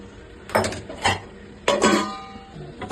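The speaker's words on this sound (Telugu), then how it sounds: "ఇప్పుడు కాసేపు అది మరిగేదాకా మూత పెడదాం" A metal lid is set onto a pot of dried prawn and gongura curry over a medium flame, producing several close, sharp clanks and clinks with short ringing tails and no talk.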